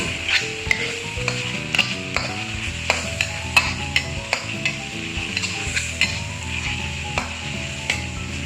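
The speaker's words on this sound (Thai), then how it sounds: "และซีอิ๊วดำเล็กน้อยนะครับ ทำการผัดคลุกเคล้าให้เข้ากัน" Chicken stir-fried with dark soy sauce and oyster sauce in a hot pan, a steady sizzle punctuated by sharp, repeated scrapes and clanks of the spatula against the pan, loud and close, with nobody speaking.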